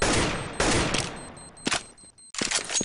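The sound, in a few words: gunfire in a video game match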